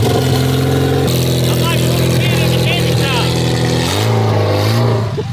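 A truck engine with an uncovered, filterless carburetor fires up and revs close by, a loud steady rumble that rises and falls in pitch before settling, while people talk over it.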